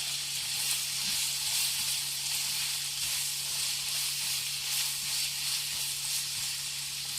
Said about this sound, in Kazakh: жақсылап араластырып